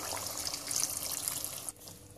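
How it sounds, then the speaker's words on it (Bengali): One cup of hot water streams into a pot of country chicken curry, a close, steady trickling pour that cuts off abruptly near the end. "এবার আমি দিয়ে দিচ্ছি গরম পানি।"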